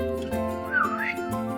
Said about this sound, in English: Daphne whistles